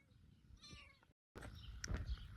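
A rescued kitten hidden in a small tunnel gives a faint meow, then a brief gap of silence, then a closer, louder meow over rustling and handling noise.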